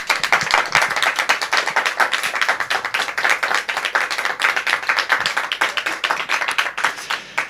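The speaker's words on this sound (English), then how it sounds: "So both of you, a big applaud" Audience clapping for two young science award winners, Anna and Ezra, at a ceremony: a dense run of sharp, individual claps, moderately loud and fairly close, with no talking over it.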